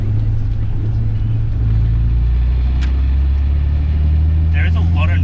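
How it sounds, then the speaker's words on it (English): Engine of a Nissan Skyline R34 with a manual conversion, droning low and steady at low RPM in gear from inside the car, a constant loud rumble that rises slightly partway, with a brief faint voice near the end. "There is a lot of noise on low RPM on that gear."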